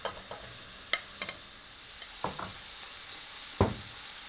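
Pieces of beef dropped into a pan of reducing sauce, a quiet bed of simmering with scattered soft plops and scrapes, one louder clatter near the end.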